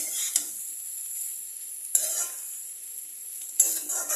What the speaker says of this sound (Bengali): বাঁধাকপিটা দিয়ে আমি এটাকে একটু ভালো করে নেড়ে নেব, তেলের সঙ্গে ভালো করে মিশিয়ে নেব।